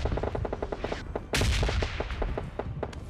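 Rapid bursts of video game gunfire in PUBG Lite crackle in quick succession, sharp and fairly close, with a louder burst midway and no talking.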